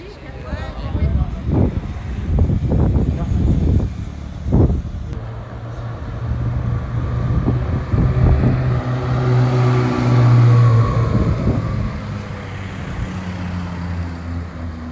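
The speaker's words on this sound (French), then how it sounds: "Bon bah c'est la 12 milliardième Ferrari du jour, c'est un truc de fou." A passing Ferrari at a busy car gathering in Deauville, its engine rising to a loud swell near the middle, over steady traffic rumble and crowd noise, with a person talking nearby.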